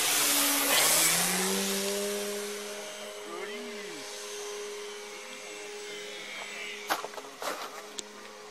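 An electric OV-10 Bronco RC model plane motor whines loudly and climbs in pitch as it speeds up, then eases into a steady drone, with a few sharp knocks near the end.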